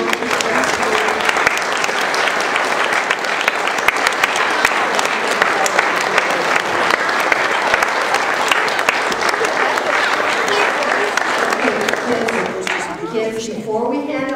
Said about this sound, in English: if everybody could applaud